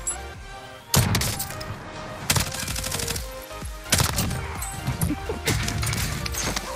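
Kar98 bolt-action sniper rifle shots in the Warzone video game ring out as several loud, sharp cracks spaced a second or two apart over continuous game noise.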